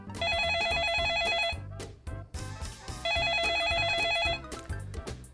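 A telephone rings on a line as a call to a party leader is being connected, giving two long electronic ring bursts separated by a short pause, mixed with background music.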